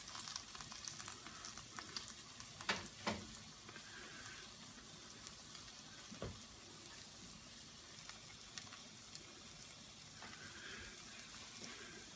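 Fried cornbread rounds with bacon bits and sliced okra browning in a hot skillet give a steady, soft sizzle and crackle, with a couple of sharper pops and spatula scrapes along the way.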